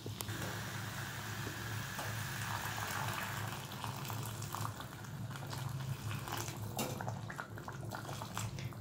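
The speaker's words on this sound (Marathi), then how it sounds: "आता आपण यामध्ये ग्रेव्ही तयार करण्यासाठी आपण गरम पाणीच ॲड करायचं आहे" Hot water poured into cooked masala with potatoes to make the gravy for a cashew bhaji, a steady broadband bubbling wash that holds at an even level throughout without talk.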